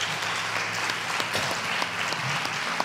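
An audience at a university lecture applauds. The clapping is dense and steady but fairly quiet and distant, running throughout without speech over it.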